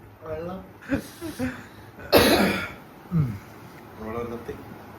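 A person coughs close by, with a sharp, loud burst in the middle and smaller throat sounds around it, mixed in with ongoing talk.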